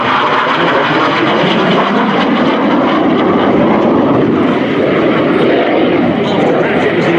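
A display aircraft flies level at about 300 feet between aerobatic manoeuvres, its engine a loud, steady continuous roar with a voice talking over it.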